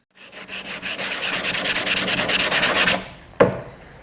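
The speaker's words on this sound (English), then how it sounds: "Me sanding on those spots that I put the fiberglass Bondo stuff on" Fiberglass Bondo filler on a jet ski is sanded by hand in quick, rhythmic back-and-forth strokes for about three seconds, close and scratchy, followed by a single sharp knock.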